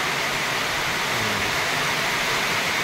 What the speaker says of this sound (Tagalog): Sana tumigil itong ulan.